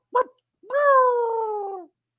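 A voices an imitation of a dog's repetitive noise: a short yelp, then a long drawn-out whining howl that slowly falls in pitch, loud and close in a quiet room.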